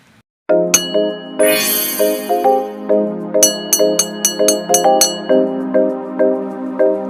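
A bright bell dings several times in a quick cluster, each strike ringing out and overlapping with sustained chiming tones, loud and close.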